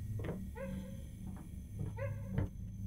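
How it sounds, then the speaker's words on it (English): Small puppy in a video game giving a few short, high yipping barks in two quick bursts, close and clear over a low background hum. "it's a cute little puppy dog just barking along"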